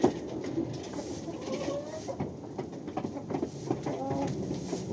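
Several goats bleat faintly amid shuffling and rustling, with a low rumbling background; the calls are brief and scattered.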